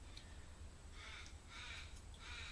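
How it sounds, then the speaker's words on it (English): A crow cawing loudly outside, several harsh calls in a loose series, heard faintly through a steady background hum. "That's a loud bird. I apologize for the loud bird."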